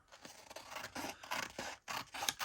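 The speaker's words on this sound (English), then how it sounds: "The red scissors seem to be better at cutting things out." Red scissors cutting out paper, a quick series of close, quiet snips and scraping blade strokes in an uneven rhythm, with no voices.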